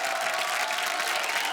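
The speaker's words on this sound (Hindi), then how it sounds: "इधर ताली बजा रहा है" Studio audience clapping on a comedy show: a brief burst of dense, even applause from a crowd, steady and fairly loud for its whole short length with no voices.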